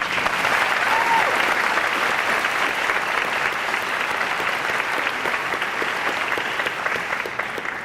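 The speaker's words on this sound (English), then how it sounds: "Would all the students whose names I've just read please stand for applause?" A large audience applauds steadily and loudly at a high school senior awards ceremony, a dense wash of clapping that holds for several seconds before easing slightly.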